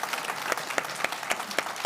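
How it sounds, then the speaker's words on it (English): Audience applause for the panelists at a Nordic Arctic cooperation side event, a steady dense patter of many hands with sharper individual claps, sustained throughout. "A big applause to the panelists."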